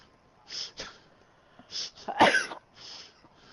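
A single sharp sneeze bursts out during a livestreamed NHL 17 ice hockey video game session, loud and close, framed by softer breathy vocal noises before and after.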